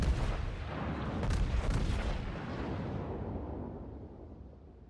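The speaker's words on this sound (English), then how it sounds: "the next salvo should end this" A Tirpitz battleship's main gun salvo fires in World of Warships, one heavy, close boom that rolls and fades away over several seconds.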